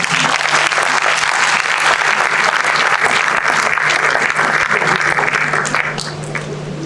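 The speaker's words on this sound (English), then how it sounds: "Please, another round of applause" Sustained audience applause fills a formal induction ceremony hall, loud and dense throughout, with a steady low hum beneath and a slight fade near the end.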